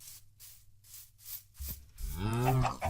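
A cow moos on a video game farm, a single drawn-out low call rising near the end, loud and close over quiet ambient game sounds with faint rhythmic noise earlier.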